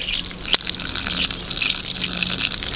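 Water gushes and hisses through a chicken watering system as the flow is started, a steady close rushing stream with a small knock partway through.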